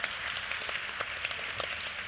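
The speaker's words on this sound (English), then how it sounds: "And now let's give them all a round of applause." A brief, even round of applause for panel guests at an education conference, many hands clapping together at moderate loudness with no voices on top.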